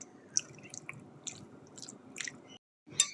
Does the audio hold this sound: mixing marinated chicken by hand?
yes